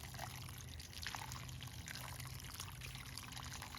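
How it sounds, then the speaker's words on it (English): Water pours steadily over freshly planted garden seeds in soil, a soft continuous splashing and trickling close by with faint uneven patters. "So now I'm gonna take the water and just water it in."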